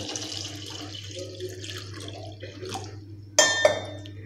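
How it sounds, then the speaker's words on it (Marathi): Water pours from a tap into a metal pot holding four eggs, a steady splashing stream in a kitchen, ending with a couple of sharp clinks of metal. "इथे मी पातेल्यामध्ये 4 अंडी घेतलेली आहेत। आता त्याच्यामध्ये पाणी ओतत आहे।"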